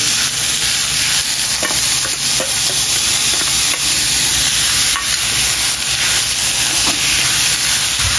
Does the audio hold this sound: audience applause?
no